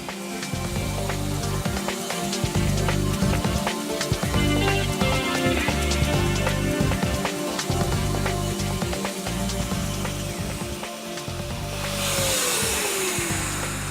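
A dust-free sander with an attached vacuum runs continuously, giving a dense, steady whine and hiss with scraping texture. Toward the end a tone drops and the noise shifts as the machine changes state.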